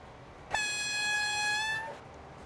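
A train horn sounds from a locomotive in the Transport Fever railway simulation game, one steady sustained blast of about one and a half seconds with a sharp onset, loud and close.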